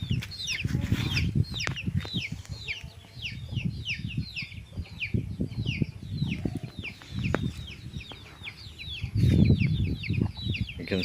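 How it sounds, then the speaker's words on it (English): Small chickens cluck and chirp busily around a chicken house, with rapid overlapping calls near and far, some wing flutters and low background murmurs throughout. "You can see the chickens, small chickens around it."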